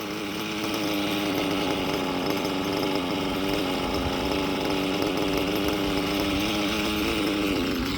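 An STS D21B Dragon nitro RC engine idles with a steady, buzzy, close droning tone that holds even and loud throughout.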